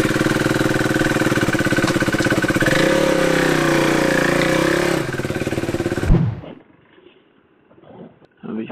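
A KTM 390 Duke motorcycle idles close by with a steady, loud, pulsing engine rumble for several seconds before it cuts off, followed by quieter handling noises.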